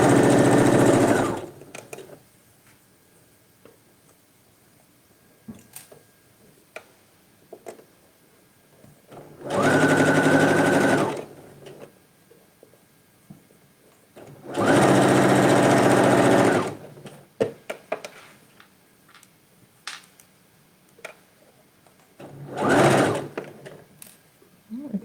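A sewing machine stitches fabric for a pair of trousers in four separate bursts of rapid, buzzing whirring, with quiet pauses and small handling clicks between runs.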